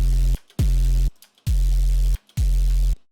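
Four harsh, buzzy synth bass notes with no EQ applied, gritty and distorted, each held about a second and separated by short silences.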